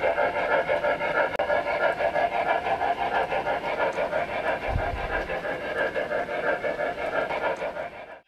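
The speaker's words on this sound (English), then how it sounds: "Toggle again and go back to normal chuff." Steam locomotive in a train simulator app on iPad, chuffing in a steady, even rhythm at moderate loudness throughout with no talk over it.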